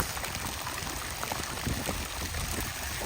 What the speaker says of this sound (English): We have a nice little waterfall over there